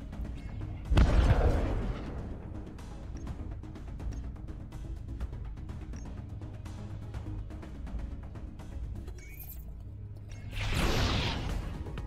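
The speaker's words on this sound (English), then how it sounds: "we could fire the cracker missile" A cracker missile fired in the card-based spaceship combat game Breachway, two heavy booming blasts, one near the start and another near the end, with a rumbling low tail between them.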